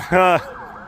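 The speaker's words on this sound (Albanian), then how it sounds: "kjo ambulanca kalon këtu para kryeministrisë" A short burst of a wailing ambulance siren, loud and close for a moment, then fading quickly into quieter background noise, as it passes a street protest outside the prime minister's office.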